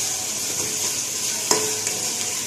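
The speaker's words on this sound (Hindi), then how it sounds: "अब इसको भूनते हैं।" Tomato cooking in a pan with ginger-garlic paste gives a steady, fairly soft hiss of frying, with a single light utensil tap partway through.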